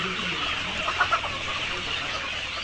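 Layer hens in a shed of about 3000 birds cluck and murmur as a steady, dense crowd, with a couple of louder clucks standing out near the middle.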